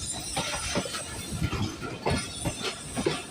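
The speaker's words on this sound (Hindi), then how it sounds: "देखिए आप लूप लाइन ले रहा है लोकोमोटिव" Awam Express train hauled by a Chinese-built locomotive rumbling and clattering onto a loop line in fog and rain, with a steady rolling roar and rhythmic wheel clicks close by.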